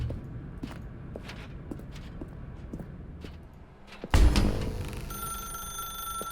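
An in-game telephone in The Stanley Parable rings in a dark room, a few faint bell-like trills over soft footsteps, then a sudden louder clunk and a sustained electronic tone.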